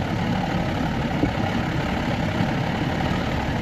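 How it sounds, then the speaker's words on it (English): An Evinrude 150XP outboard motor on a McKee Craft boat idles steadily, a continuous low rumbling drone close by with no change in pace. "It's idling fine."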